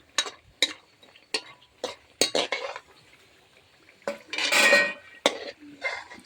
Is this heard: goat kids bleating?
no